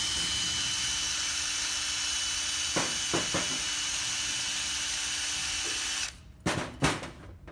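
A high-pitched electric drill whirs steadily while twisting red wire around an aluminium bar for floral design, the motor then stops and restarts in a few short bursts near the end.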